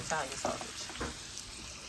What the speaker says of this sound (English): I got a little Italian beef cooking on the stove right now